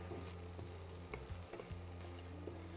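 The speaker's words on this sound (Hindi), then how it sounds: "थोड़ा सा इसको भून लिया जाए पहले हल्का।" Mixed vegetables with bell peppers and carrots sautéing lightly in a pan over a slow flame, a soft steady sizzle with a few scraping stirs of a spoon, close and fairly quiet.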